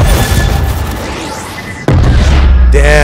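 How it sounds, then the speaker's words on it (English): In the animated series Arcane, season 1 episode 3, a deep, booming explosion swells and fades, then a second loud blast hits abruptly, followed by ringing, whooshing tones. "Yeah, that explosion's massive."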